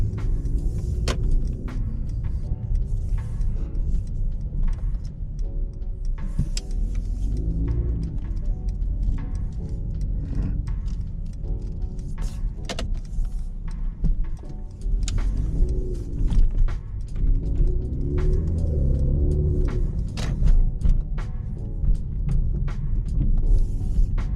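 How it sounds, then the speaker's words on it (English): A 430 hp stage 1 Mercedes C43 coupe in Sports Plus mode drives with a deep, loud engine rumble that swells and eases through gear changes, with scattered sharp exhaust pops and crackles. "shifting this car into Sports Plus so we can hear the pops and everything"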